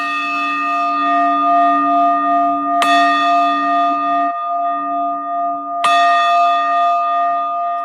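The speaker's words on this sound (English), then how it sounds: "So that's a deeper sounding bell" A deep-toned meditation bell from a phone app rings out with a long, humming sustain. It is struck again near three seconds and once more near six, each strike bright and close before slowly fading, with no talking.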